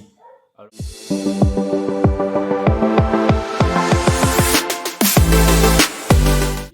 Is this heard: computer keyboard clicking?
no